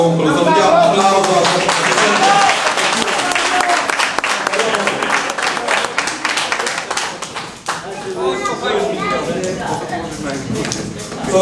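Sustained applause from a crowd at the inauguration of a new boxing gym headquarters, dense steady clapping at close range with voices mixed in, thinning slightly near the end.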